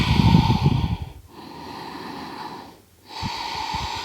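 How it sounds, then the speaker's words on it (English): A long audible breath during a yoga forward fold: a strong, breathy exhale at the start, then quieter steady airflow with two brief pauses, heard up close with no talking. "And exhale to fold."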